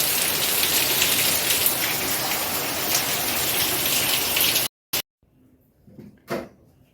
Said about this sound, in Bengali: এদিকে বৃষ্টি পড়েই যাচ্ছে ঝরঝর করে দেখো